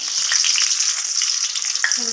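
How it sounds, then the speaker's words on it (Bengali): Eggplant slices frying in a pan give off a loud, close, continuous sizzle with a few small crackles and no talking. "এই যে বেগুন ভাজাটা"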